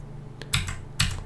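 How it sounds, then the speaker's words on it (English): A clicky computer keyboard being typed on: a soft tap followed by a couple of sharp, close key presses spaced apart, heard alone without speech. "just clicky clicky clicky with the sound of my keyboard"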